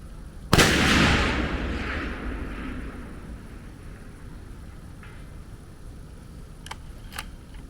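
A single loud shot from a Savage Model 10 rifle firing 175 grain SMKs at a long-range silhouette target, a sharp crack followed by a long fading ring in the quiet evening, then faint clicks.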